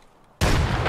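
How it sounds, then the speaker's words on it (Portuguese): Single sudden grenade blast in the shooter game Escape from Tarkov, a loud broadband boom that bursts in after near silence and lingers briefly. "Jogaram granada."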